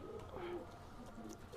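A male pigeon gives a faint, brief coo, two or three soft low notes close by in a quiet pen.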